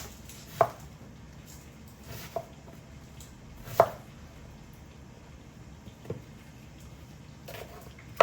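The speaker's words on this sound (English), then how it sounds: "So we're gonna cut the onions now." Onions for a stew are cut with a knife on a board, producing five or six sharp, spaced-out chops over several seconds in a quiet kitchen.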